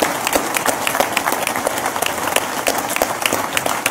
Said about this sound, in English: Please join me in giving a rousing round of applause to the candidates tonight